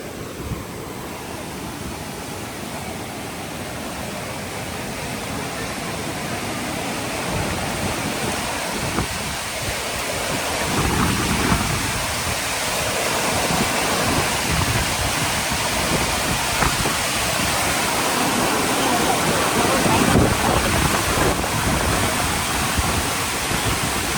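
Water rushes heavily over the Iranaimadu reservoir spillway in Kilinochchi, a continuous, broad roar that swells slightly over time, with no voices heard.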